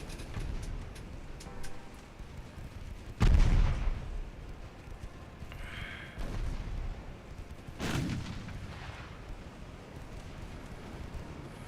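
Naval artillery in the warship game Ultimate Admiral Dreadnoughts, a few heavy distant booms spaced several seconds apart over a steady background rumble of sea and wind.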